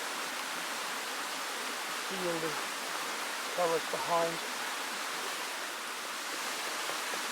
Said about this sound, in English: But rain comes again.